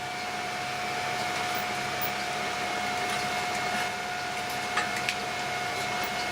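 A small electric motor runs slowly with a constant steady hum and whine, close and continuous, with a couple of faint clicks near the end and no talking.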